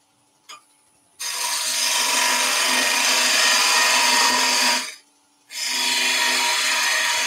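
A wood lathe turns a basket weave vase while a parting tool cuts into it, giving two loud, sustained rasping scrapes separated by a short pause, with a faint tap just before the first cut.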